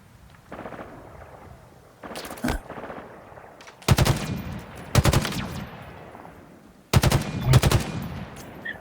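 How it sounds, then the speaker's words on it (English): Gunfire in Halo Infinite comes in sharp, loud bursts, with several separate volleys of rapid shots spaced a few seconds apart and quieter gaps between. "Someone else is shooting at me."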